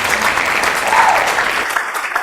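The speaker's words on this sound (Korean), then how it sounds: "박수 한번 칠까요?" Audience applause at a Korean health lecture on lymph node surgery: a dense, steady clatter of many clapping hands that fills the whole stretch at fairly high volume, with no talking over it.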